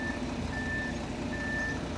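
Concrete truck backing up at a shop pad pour site, its reversing alarm sounding repeated steady beeps over a continuous low diesel engine rumble, fairly close and loud with no talking.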